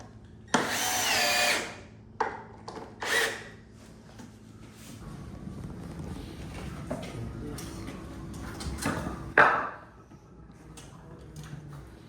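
A power drill driving screws into wooden framing for garage platform steps, heard as a few short loud whirring bursts between quieter workshop sounds and handling noise.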